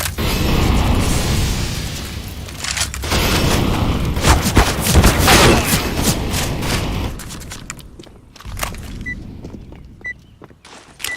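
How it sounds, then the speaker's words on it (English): An incendiary grenade thrown in CS:GO, with booming bursts, crackling fire and rapid gunfire layered densely for several seconds before thinning into scattered clicks and quieter game noise. "Throwing fire. Incendiary. Incendiary out."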